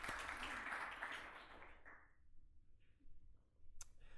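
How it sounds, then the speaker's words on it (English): A conference audience breaks into applause, a brief burst of clapping that is loudest at the start and fades out over about two seconds, followed by quiet room sound and a few faint stray noises. "I want to give you a little applause now."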